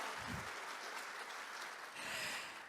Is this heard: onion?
no